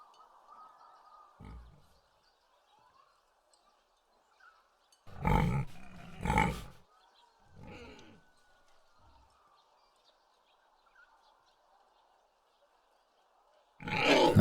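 Pigs in the Chains of Satinav video game give a few scattered low grunts and snorts, the loudest a pair in the middle, separated by quiet gaps over faint background music.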